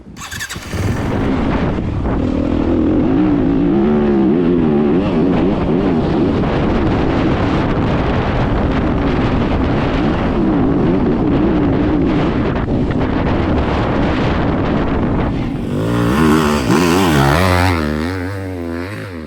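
An enduro motorcycle being ridden during suspension testing roars loud and close throughout, its engine note rising and falling under heavy wind buffeting, with a sharper revving change near the end.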